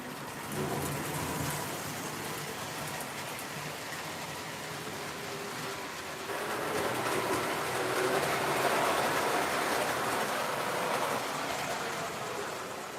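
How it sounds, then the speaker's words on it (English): An old diesel locomotive train rumbles past with a continuous roar and rattle of wheels, growing louder midway and staying steady, with no voices. "nothing like the sound of those old E units in these trains"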